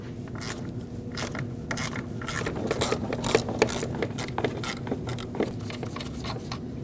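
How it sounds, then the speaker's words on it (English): A ratchet with a deep 10mm socket removes a sensor mounting nut on a 2013-2019 Ford Escape during upper radiator support replacement, giving quick repeated clicking and ratcheting bursts over low background hum. "You'll need a deep 10mm socket to go over that stud."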